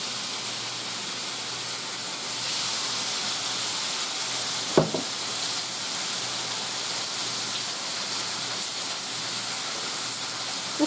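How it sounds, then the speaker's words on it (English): Continuous hissing sizzle of chicken cooking in an indoor nonstick grill pan, steady and close, with a brief clatter partway through. "It's sizzling."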